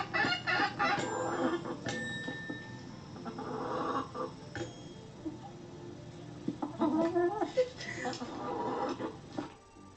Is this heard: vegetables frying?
no